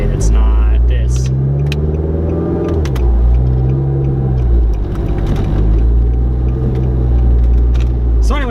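Cabin sound of a Nissan Juke fitted with new motor mounts and coilovers while driving, with a loud low engine rumble that rises and falls with the revs and speech heard over it.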